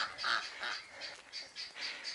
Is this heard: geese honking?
yes